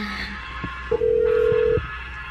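A phone call goes out to a Shopko store: a brief burst of dialing tones, then a single steady ringback tone lasting close to a second, clear and near, with no talking.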